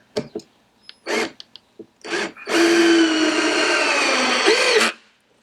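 Power drill driving screws into very hard wood stair stringers: short whirring bursts, then one long steady whine of the screw being driven home, loud and close with no talk over it.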